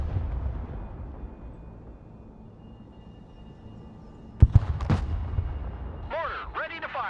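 Mortar fire in the strategy game Broken Arrow: a sharp, loud pair of blasts about midway through a quiet rumble, followed by a voice speaking.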